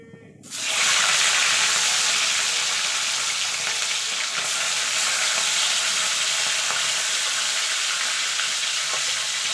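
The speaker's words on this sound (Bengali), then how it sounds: "এবার মাছগুলো ভেজে নেব।" Tangra fish dropped into hot oil burst into a loud, steady, close sizzle that starts abruptly and holds as a dense hiss for several seconds, with no voices.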